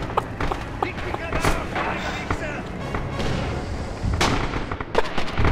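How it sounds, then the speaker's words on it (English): Artillery barrage in the World War II shooter Red Orchestra 2, with repeated booms and distant blasts over a continuous battlefield din, mixed with gunfire and voices talking over it. "Artillery fire now."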